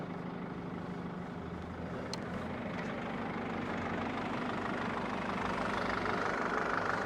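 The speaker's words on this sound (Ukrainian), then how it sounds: "Ну мотор прекрасно працює." Low, steady rumble of a Mercedes-Benz 413 CDI Sprinter diesel van engine idling nearby with a faint knocking chatter, continuous and unchanging, no voices.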